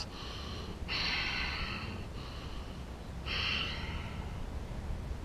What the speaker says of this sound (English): In the nose, out the nose. Breathe deep into the core, into your center.